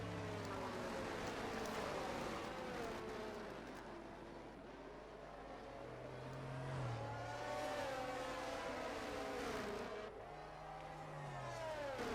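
Race cars in an F1 video game at the Saudi Arabian Grand Prix, engines droning and revving continuously with pitch sweeps as cars pass, a dense layered engine wash with no talk.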